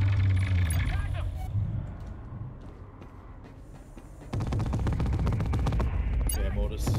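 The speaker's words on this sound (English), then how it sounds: "Yeah, mortars." Mortar fire in the video game GTFO Rundown 6, heavy booming blasts and a sustained loud barrage after a quieter lull, close and dense.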